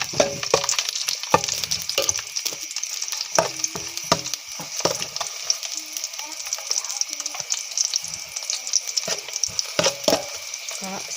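Garlic fries in a little cooking oil for a sea urchin dish, giving a close, steady crackling sizzle broken by sharp pops and occasional utensil knocks.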